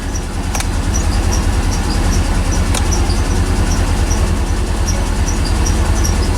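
A C4 Corvette engine idling at about 600 RPM in snow and cold weather, a steady low rumble throughout, close and loud, with no talk.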